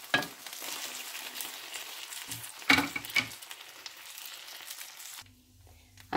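Meat frying inside a tortilla in a hot pan, a steady close sizzle with a few louder crackles and stirring scrapes, ending abruptly as the sizzle drops to a faint hum.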